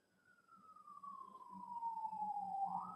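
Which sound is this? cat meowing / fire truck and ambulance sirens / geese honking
fire truck and ambulance sirens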